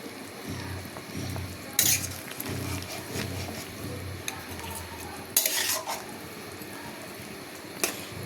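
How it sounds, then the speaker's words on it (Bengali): A pot of thin fish curry broth bubbles and simmers steadily as pieces of fish are dropped in, with two sharp splashing bursts and light clinks of a utensil. "ঝোলটা ফুটে গেছে, এবার এক এক করে সব মাছগুলো দিয়ে দেব।"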